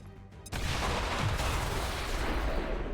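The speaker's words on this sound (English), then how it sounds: "let's see if we can start this train explosion" In the XCOM 2 strategy game, a train blows up with one sudden loud blast, followed by a dense rumbling roar of debris and fire that stays loud until the end.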